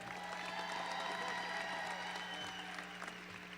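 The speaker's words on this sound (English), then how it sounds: "let's have another round of applause for our student athletes from Saxe High School" A crowd in a gymnasium applauds high school student athletes at a National Signing Day ceremony, with steady clapping and light cheering throughout, fairly distant and even in level, over a low hum.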